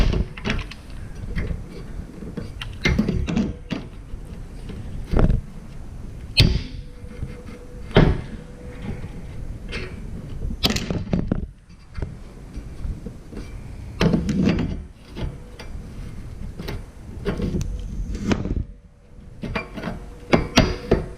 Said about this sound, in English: let's try and remove this muffler